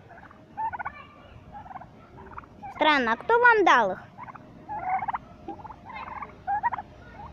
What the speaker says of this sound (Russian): Молодцы, индюки.